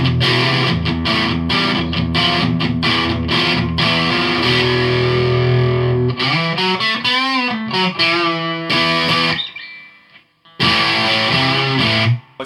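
An electric guitar plays through a Behringer OD300 distortion pedal with the gain and tone turned down, loud and up front, strumming chords and then a bent lead phrase. A short gap of near silence falls before the chords return.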